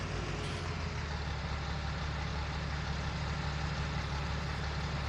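A forage harvester engine in Farming Simulator 19 while harvesting grass for silage, a steady heavy droning hum that holds unchanged from start to finish, with no voices.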